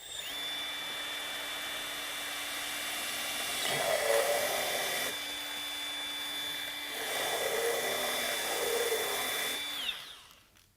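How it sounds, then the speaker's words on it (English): A Milwaukee screw gun backing a screw out of a tire gives a steady high whining drill tone that rises in pitch when the motor speeds up. It runs close and alone for about ten seconds before winding down. "we're going to pull it out with the screw guns"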